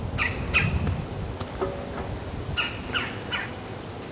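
Loud, harsh squawking calls from a nearby bird, in short repeated bursts with pauses between them, set against an outdoor background hum while firewood is stored in a shed.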